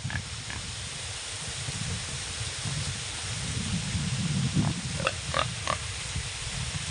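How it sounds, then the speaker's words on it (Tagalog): A pig being prepared for a ritual offering at a fishpond grunts low and repeatedly, then lets out a few short squeals near the end, over a steady noisy background. "Ito yung baboy na iaalay"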